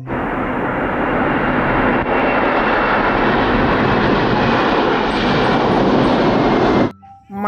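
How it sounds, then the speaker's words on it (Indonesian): A toy airplane sound effect plays as a loud, steady roar of engine noise for about seven seconds, then cuts off abruptly, with no talking over it. "Pesawat terbang."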